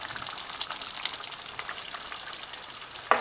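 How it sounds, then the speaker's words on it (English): Spices and food frying in a pot give off a soft, continuous sizzle with faint crackles, heard close and fairly quiet, ending in a single sharp knock. "I'm gonna let it cook for a little bit"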